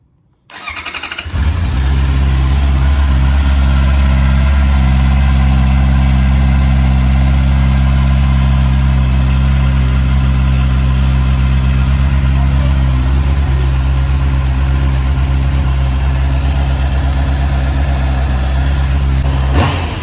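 A Honda CBR650R motorcycle engine starts after a brief silence and settles into a loud, steady, close idle. A slight shift in the note comes near the end, with no talk.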